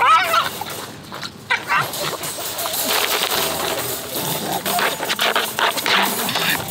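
An injured, abandoned young female dog whimpering and whining in short high cries, with brief engine-like background noise, some bird sounds and faint voices mixed in.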